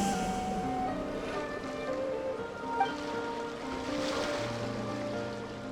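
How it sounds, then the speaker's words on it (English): Ocean waves wash steadily along a shore in the video game Genshin Impact, a constant soft surf beneath sustained melodic game music throughout. "Go to where you can hear the sound of the waves."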